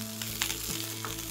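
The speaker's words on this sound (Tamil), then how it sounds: "ஒன்று தாளிக்கிறதுக்கு முழு சீரகம் போடுறோம்." Whole cumin seeds crackle and sizzle in hot oil in a kadai, a steady close frying hiss with small bursts and no voices over it.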